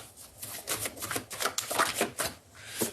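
A small oracle card deck being cut by hand, giving a run of quick papery riffles and soft flicks at close range with no talking.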